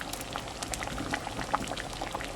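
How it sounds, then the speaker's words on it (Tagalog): Mung bean soup with bitter melon bubbles steadily in a pot, a dense, continuous patter of popping bubbles and simmering liquid heard up close with no voices. "kumukulo na ito"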